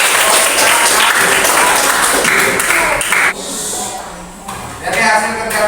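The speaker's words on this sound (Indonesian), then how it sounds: "Tepuk tangan dulu buat." Classroom applause from a group of students, steady clapping for about three seconds, then thinning and fading into a quieter room with a short burst of renewed clapping near the end.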